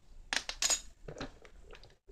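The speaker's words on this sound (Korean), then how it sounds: "이제 숟가락 준비해주고요." A spoon is laid out beside a bowl among craft supplies, producing a few soft, close clinks and taps in quick succession, faint and without talk.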